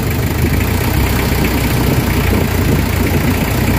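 A Nissan Vanette engine idles loudly and steadily close by, a continuous low rumble with a faint knocking texture. The van has a low-power, throttle-delay fault.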